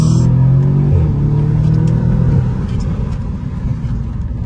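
Audi S3 four-cylinder engine revving up loudly and close, a strong tonal drone that climbs and then eases back to a lower, rougher rumble.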